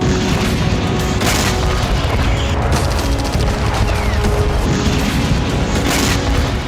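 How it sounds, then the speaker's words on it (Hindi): Explosion in the Kerch Strait: a dense, loud barrage of booms and crackling blasts that runs continuously with repeated sharp bursts, with no talk. "17 जुलाई के बाद एक बार फिर यूक्रेन ने कर्च स्ट्रेट में विस्फोट किया है।"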